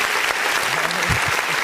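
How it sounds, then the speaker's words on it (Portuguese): A church congregation applauds together during an online worship service, with steady dense clapping throughout and a brief voice rising faintly beneath the applause. "Vamos aplaudir o nome do Senhor."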